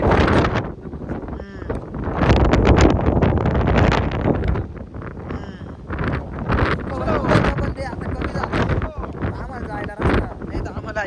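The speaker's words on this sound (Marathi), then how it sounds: "वरती जबरदस्त वारा, इतकं वारा आहे ना" Strong wind buffets the microphone on a mountain trek to Vishramgad fort, a loud, continuous roar and rumble gusting throughout with no break.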